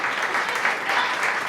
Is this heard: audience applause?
yes